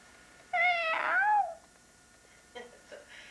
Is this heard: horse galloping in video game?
no